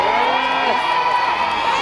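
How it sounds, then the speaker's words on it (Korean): Concert crowd at an outdoor K-pop music festival cheering and applauding, a loud sustained roar of shouting and whooping voices close by for under two seconds. "여러분, 지금부터 열렬한 박수와 환호로 끝까지 함께 해주세요"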